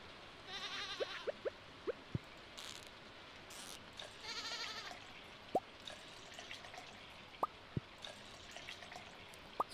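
Goats in a farming video game bleating in short, faint cries among quiet ambient game sounds and occasional light dripping or clicking tones, with no talk.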